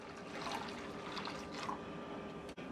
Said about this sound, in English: We're going to go in with water now.